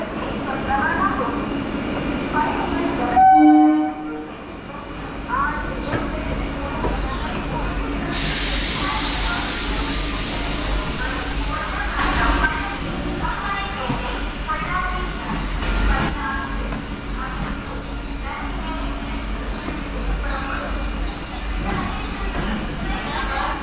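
A MEMU express train running from Dindigul via Palani to Coimbatore while passengers board: a steady rumbling, hissing carriage ambience with brief clanks and a burst of air, and people talking in the background.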